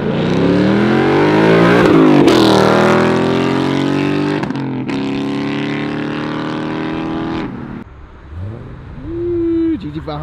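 Cars pull out hard from a cars-and-coffee meet in Roxboro, with loud, close engine revving and rising acceleration roars that fade out, then a final high whine of a passing car.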